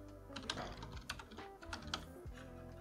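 Quiet computer keyboard typing, a quick irregular patter of key clicks heard close up over a low steady hum, with no speech.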